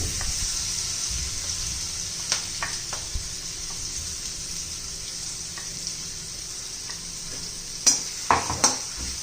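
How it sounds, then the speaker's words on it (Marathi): Soft continuous sizzle of a ground spice paste frying in oil for a brinjal dish, with occasional scrapes and clinks of a spoon against the pan. "छान असं परतून घ्यायचंय."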